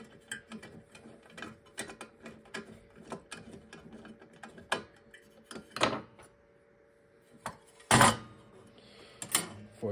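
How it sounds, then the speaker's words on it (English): A bolt with a captive spring washer is tightened down by hand, giving a string of close, quick ratcheting clicks and metallic ticks, with a few louder clunks and a pause in between. "Now I can tighten this back down."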